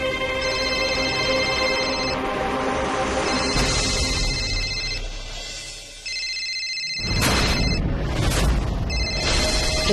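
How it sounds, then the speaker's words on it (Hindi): Telephone ringing in a Hindi drama series, an electronic ringtone of repeated tonal bursts over music, which drops away before a loud crashing impact and dramatic music swell take over. "रंजन के पापा का फोन इस वक्त।"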